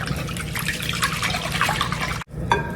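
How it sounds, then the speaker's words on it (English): Liquid from canned corn pours into a bowl of beaten egg, a steady close trickle and splash that cuts off briefly before a last few drips. "drain our corn into the egg. Make sure it drains well"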